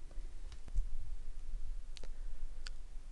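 A few sharp computer mouse clicks, quiet and close, spaced irregularly over steady low background hum while someone searches documents on a computer.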